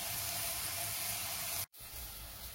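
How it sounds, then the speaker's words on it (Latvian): Breaded slices of sulphur shelf mushroom frying in a pan, giving a steady bright sizzle and hiss that cuts out for a moment and then returns a little quieter. "es uzceps arī pirmo pannu ar izklapētām sērpiepu šķēlītēm"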